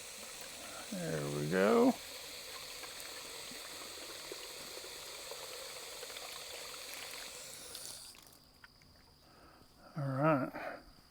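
Water pours steadily into an animal water container on a homestead, a soft continuous trickle that stops near the end, with brief harmonic squawk-like calls and a short spoken remark before and after.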